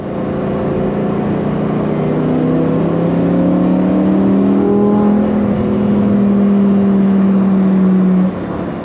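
Exhaust note of a Lamborghini Huracan STO, a street-legal race car, heard from inside while driving: a loud, continuous engine drone whose pitch climbs steadily as it accelerates through the gear, then eases off near the end.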